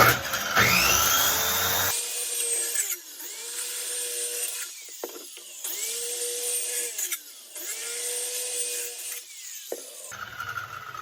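Electric saw cutting through plywood in a few separate passes, each whining cut rising and falling with short gaps between, the motor spinning up and down at the start and end, close and loud with no talk.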